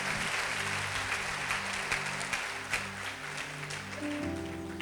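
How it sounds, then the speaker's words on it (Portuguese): Loud, sustained applause from a large audience, steady clapping throughout, with a held musical tone underneath and a rising note near the end. "dar a melhor salva de palmas que você pode dar."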